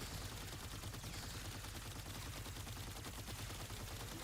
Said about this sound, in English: Yeah, this is the new Haalvu rifle.